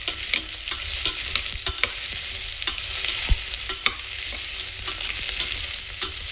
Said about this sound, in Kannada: ಸೊ ಅದಕ್ಕೆ ಒಂದು ಸ್ವಲ್ಪ ತುಪ್ಪದಲ್ಲಿ ಈ ಥರ ಹುರಿತಾ ಇದ್ದೀನಿ.